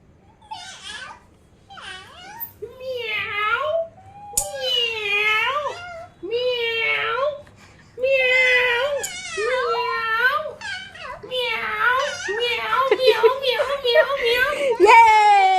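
Two young children imitate a cat, trading a string of high, wavering meows in quick succession during a playful cat race at home, close and fairly loud, with short pauses between bursts.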